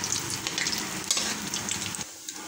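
Cloves and cumin sizzle in hot oil for a paneer dish, a dense, close crackle with stirring scrapes that drops away sharply just before the end, no voices.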